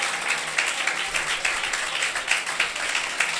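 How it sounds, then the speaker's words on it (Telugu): A church congregation applauds loudly during a Sunday service, a dense continuous patter of many hands clapping with slight rhythmic surges, close and filling the space without speech. "గట్టిగా చప్పట్లు కొడుతూ స్తోత్రాలు చెల్లిద్దాం."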